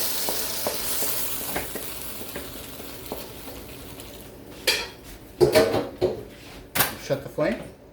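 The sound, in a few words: okra being stir-fried with garlic, sizzling in a pan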